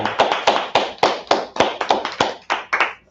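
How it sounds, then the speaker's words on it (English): Audience at a gathering clapping in unison, a steady run of sharp, loud, evenly spaced claps close by with no talking over them. "let's clap it up"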